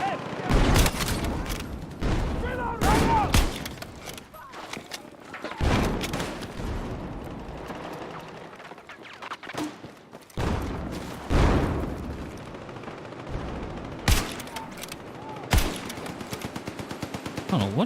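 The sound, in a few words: gunfire in a video game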